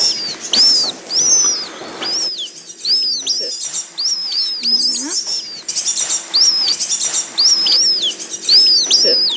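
Young birds at a wildlife rescue centre chirp loudly and constantly, a busy close chorus of repeated high cheeps with a few softer, lower calls mixed in.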